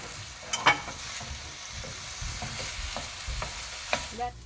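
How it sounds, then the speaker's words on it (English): Onion frying in oil with a cinnamon stick and bay leaf for Indian butter chicken, a steady sizzle with scattered stirring clicks and scrapes, close and unvoiced. "Look at onion start to cook after"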